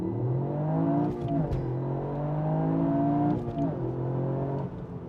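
A Toyota GR Yaris running on a nearly empty tank drones along with a steady engine hum, rising and falling through gear changes and light throttle shifts. Heard from inside the cabin, with no talking.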